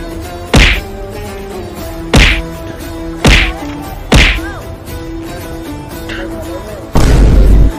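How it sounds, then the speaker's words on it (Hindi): Four sharp, loud bangs ring out at irregular intervals, followed by a heavier blast near the end, with faint background sounds between them. "ये गोली कौन चला रहा है?"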